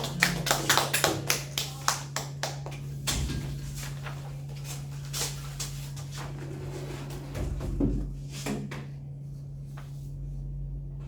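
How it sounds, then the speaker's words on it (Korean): An audience applauds a newly introduced team leader at an academy's parents' information session: a burst of fairly close, uneven clapping that quickly fades to a few scattered claps, with a steady low hum underneath. "박수 좀 쳐주세요."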